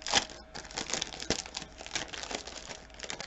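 Crinkly foil sticker overlays for a planner are handled up close, giving a run of crisp crackling and rustling with sharp little snaps, quiet and with no voices.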